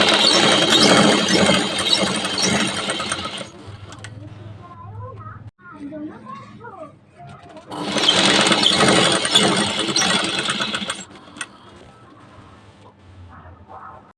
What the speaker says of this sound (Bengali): পাড় রেখে একদম ধার বরাবর দিয়ে আমি এখানে সেলাইটা করে নিচ্ছি